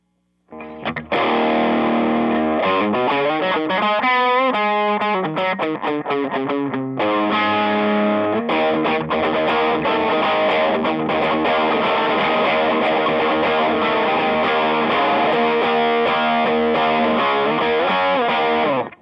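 An electric guitar through a Klon Centaur overdrive pedal plays loud and alone, with sliding bends and riffs and then sustained, crunchy chords.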